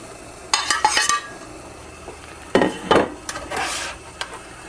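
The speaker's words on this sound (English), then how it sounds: "Just stir that up just a little bit so it all gets all that great sauce all over it." A spoon stirs rabbit, mushrooms and onions in sauce in a pan, giving scattered scraping clinks and wet shuffling sounds in short bursts, close and fairly loud, with no talk.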